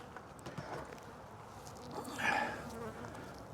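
Honey bees buzz around open hive frames of brood and nectar during a spring colony split, a dense, close, steady hum that swells briefly midway.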